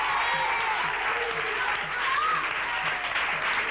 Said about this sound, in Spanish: un fuerte aplauso para Manuel